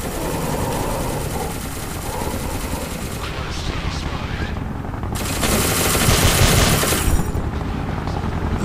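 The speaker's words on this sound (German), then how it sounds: "Wieso schießen die jetzt auf dich?" Sustained automatic gunfire in the horror game SCP Containment Breach, a dense continuous rattle of rapid shots that swells louder midway, with a heavy mechanical drone underneath and no voices.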